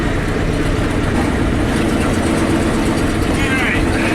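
A 1984 Ford F-250 pickup engine pulls in low gears while driving, a loud, steady rumbling drone that runs unbroken from start to finish.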